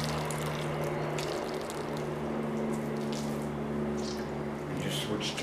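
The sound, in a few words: dirty soapy water being dumped out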